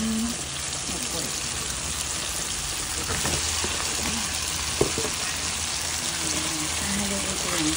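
Ground pork sizzling and frying with tomato in a pan, a steady broadband hiss with scattered crackles and stirring scrapes, close and fairly loud, one sharp clink near the middle.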